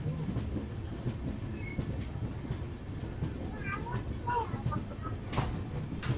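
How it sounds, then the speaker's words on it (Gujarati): A train rolls along a curve into Viramgam Junction railway station on the Rajkot to Ahmedabad route, giving a steady low rumble of wheels on rail with a few faint squeaks and clicks. "તો ભાઈ બ્યુટીફુલ કર્વ સાથે આપણે એન્ટ્રી લઈ રહ્યા છીએ વિરમગામ જંકશન રેલવે"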